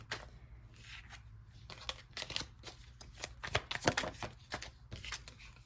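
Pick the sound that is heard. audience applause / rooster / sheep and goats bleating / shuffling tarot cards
shuffling tarot cards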